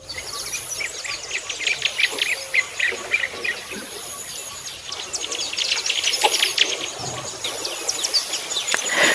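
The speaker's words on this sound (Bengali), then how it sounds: "চারিদিকে প্রচুর নাম না জানা পাখির আওয়াজ" Many birds sing and chirp together across a hilly rural village at Purulia on a winter morning, with dense overlapping calls close and distant, and a steady insect-like buzz underneath and no talking.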